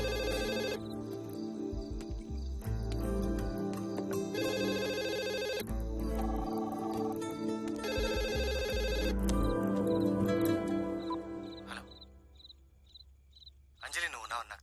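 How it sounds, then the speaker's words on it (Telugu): A landline telephone rings in repeated electronic trills, loud and near, with musical tones underneath and a brief burst of another sound at the very end. "ల్యాండ్ లైన్ ఫోన్ చేయన్నా, ల్యాండ్ లైన్ దాని స్విచ్ ఆఫ్ ఉండదుగా."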